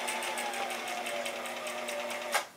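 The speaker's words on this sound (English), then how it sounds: "I'm sewing on my bad machine" A domestic sewing machine stitches fabric for quilting with fusible interfacing, a steady rapid mechanical whir with regular needle clicks, close and fairly quiet, ending on a brief louder knock.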